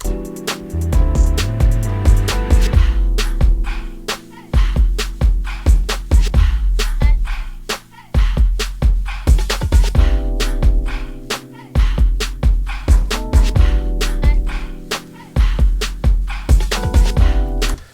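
Hip-hop beat breakdown with deep 808 drops, drum fills and sound-effect ear candy, steady punchy drums and booming low hits running throughout, loud and continuous with brief dropouts.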